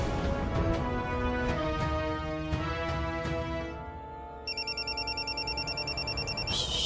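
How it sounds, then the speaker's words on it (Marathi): A telephone rings in a repeating electronic pattern of short regular pulses, entering after a stretch of other sound and continuing clearly on its own, moderately loud and near. "शालिनी मॅडमचा फोन."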